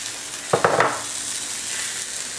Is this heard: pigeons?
no